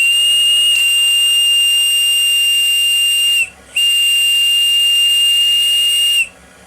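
A loud steady steam whistle on the model steam gunboat Fulgerul sounds in two long sustained blasts, a shrill tone broken by a brief gap near the middle and cut off just before the end, with a hiss of escaping steam underneath.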